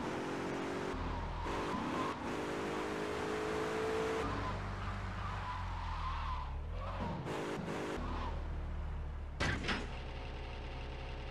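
A car's engine revs and tires skid in Grand Theft Auto III on PS2, with surging engine tones, squeals and sudden shifts, fairly loud and mostly alone with brief talk.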